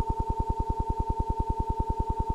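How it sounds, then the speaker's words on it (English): Sonified pulsations of heartbeat stars form a constant steady tone overlaid by a fast, regular beating pulse, about eight beats per second, heard alone and fairly quiet. "So if you listen to the song of these stars, it would sound something like this."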